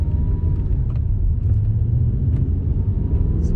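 An Audi R8 engine rumbles low and steady from inside the car on a circuit as it pulls away and works up into third gear, a loud, even drone.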